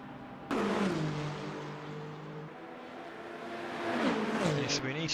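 A race car in Le Mans Ultimate pulls out of its pit box, the engine rising in pitch as it accelerates away, with a commentator talking over the steady engine drone.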